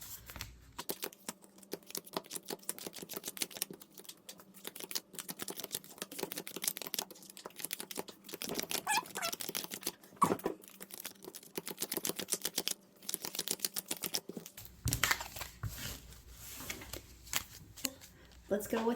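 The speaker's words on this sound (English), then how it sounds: "We're going to pile shuffle." Magic: The Gathering cards being pile shuffled on a playmat, a dense run of soft clicking card slaps and shuffles continuing through most of the clip at close range.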